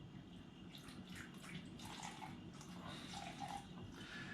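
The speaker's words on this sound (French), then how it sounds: "en premier, on va mettre du rhum à hauteur de la première gradation" Rum pours into a glass in a steady, faint trickle lasting several seconds, with no talking over it.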